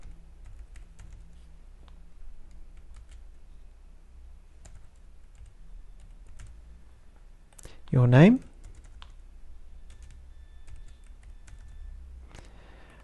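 A computer keyboard gives faint, sparse clicks under a narrator's steady voice, with a brief louder burst near the middle.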